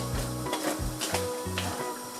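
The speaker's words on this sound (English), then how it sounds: "I'm just gonna keep stirring until everything is mixed." Plantain fufu is stirred in a pot with a series of rhythmic thick, sticky scraping and thumping strokes, close and moderately loud, with no voices.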